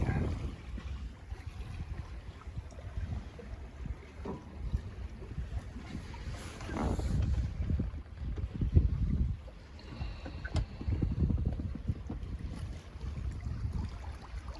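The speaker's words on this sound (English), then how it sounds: "Peaceful sailing." Sailboat under reefed mainsail and staysail heading out onto the Chesapeake Bay, with soft, steady rushing water and wind rising and falling around the hull, calm and unhurried, no voices.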